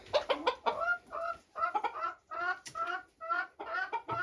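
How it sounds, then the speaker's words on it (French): Golden cuckoo chickens cluck repeatedly inside a barn, a close, busy series of short clucks and calls that overlap in irregular bursts with brief pauses between. "Voilà les coucous dorés"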